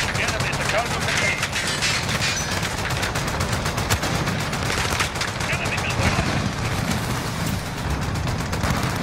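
Sustained gunfire in Call of Duty: Modern Warfare on the Shoot House map during a Headquarters match, dense rapid automatic bursts almost without pause, loud and close, with a voice speaking over it.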